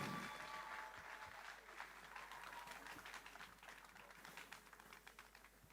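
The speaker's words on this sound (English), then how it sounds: "A round of applause for him." An audience at a business summit applauds in a continuous wash of clapping that gradually thins and softens, with no voices over it.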